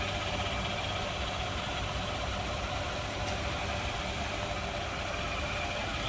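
A 1941 Cadillac Series 62 convertible sedan's 346 V8 idles smoothly, a steady, even engine hum close by with no talking over it.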